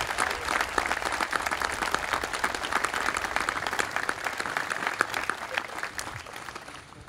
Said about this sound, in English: Can we give them one more round of applause for us?